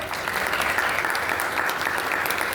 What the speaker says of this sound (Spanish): le pido un aplauso para ella